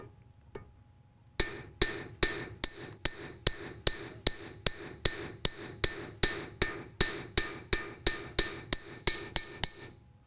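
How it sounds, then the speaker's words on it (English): A metal hammer strikes in a steady, even rhythm, about twenty ringing blows with bright metallic overtones, close and clear with no talking. "I'll flip the hammer and smooth them out with the flat face of the hammer"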